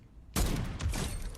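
A sniper rifle fires in a video game during a battle in Los Angeles, one sharp loud crack and then a rolling echo and scattered distant shots.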